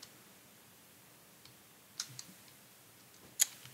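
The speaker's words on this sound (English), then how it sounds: "What is this keyboard?" Sparse computer keyboard clicks during an online web-search symbols exercise, with two sharper keystrokes standing out against a quiet room and otherwise only faint scattered taps.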